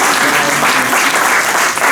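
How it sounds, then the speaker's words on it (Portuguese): Audience applause for two narrators at a village memories event, dense steady clapping from a crowd filling the whole stretch. "uma salva de palmas para eles"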